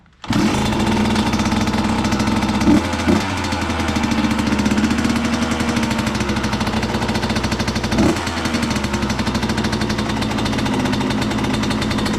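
A Yamaha YZ125 two-stroke dirt bike, left sitting for about a month, starts up and runs loud and close with a rapid, rattling buzz, holding steady with a few brief blips of revving.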